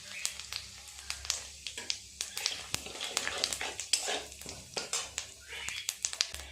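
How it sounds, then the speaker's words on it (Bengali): Bay leaves, a dried chili and cumin seeds hit hot oil and sizzle, with crackling pops and scattered sharp clicks. "তেল তো গরম আছে, ফোড়নে দেব 2টো তেজপাতা,"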